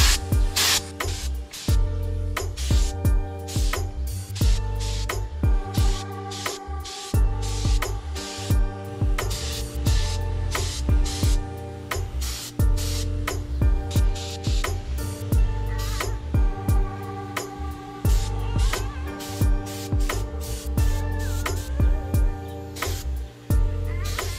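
Spray paint goes onto a Mazda Miata in repeated short hissing bursts with brief gaps, loud and close, over a constant low mechanical hum.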